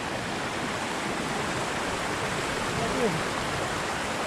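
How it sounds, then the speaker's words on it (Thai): A shallow stream runs over rocks near Tad Mok waterfall in Phetchabun, making a steady, close rushing wash of water that stays constant throughout. "ข้ามน้ำอีกแล้ว มันข้ามน้ำหลายจุดนะ แต่น้ำไม่ลึก"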